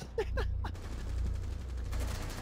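Bursts of gunfire from the video game Rainbow Six Siege: several sharp shots early on, then a steady run of fire over a low rumble, loud and close.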